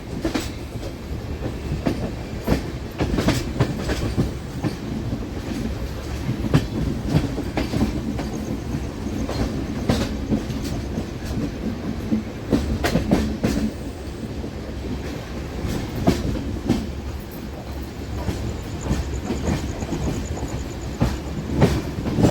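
A passenger train runs near Vijayawada Junction, with steady rolling rumble and repeated clickety-clack of wheels over rail joints close by, and occasional faint squeals, no talking.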